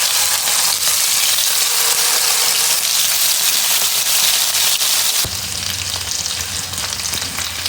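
Fish coated in ground green peppercorn paste frying in hot oil, giving a loud, steady crackling sizzle that drops slightly in intensity partway through, then continues evenly.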